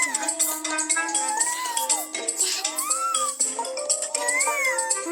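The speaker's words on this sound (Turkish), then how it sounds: "Merhaba kedicik." A cat meows repeatedly inside the video game PK XD, a run of bright rising and falling mews over a busy layer of game music and effects, loud and close throughout.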